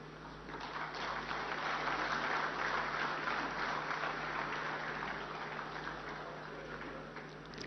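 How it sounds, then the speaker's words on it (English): Sustained applause from a ceremony audience at an official water-resources event in Visakhapatnam, a steady dense wash of clapping that holds evenly throughout with no voices over it. "Can we have a huge round of applause for sir, please?"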